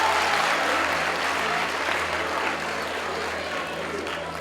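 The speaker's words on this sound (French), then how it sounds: "Alors on applaudit très très fort." A sustained wash of audience applause fills an awards closing ceremony for a trophy presentation. It is dense and even, easing slightly toward the end, with a low hum beneath.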